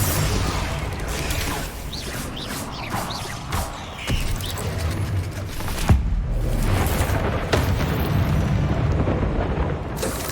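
Bombarda spell explosions in the Hogwarts Legacy video game, a dense barrage of booming blasts, whooshes and crackling bursts layered over continuous battle noise, with no voices.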